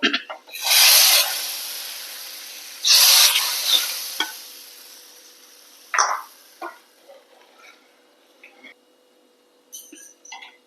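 Hot tempering of curry leaves and asafoetida is poured into a Kerala pumpkin pulinkari, giving two loud bursts of sizzling followed by fainter stirring and clinks, with no speech.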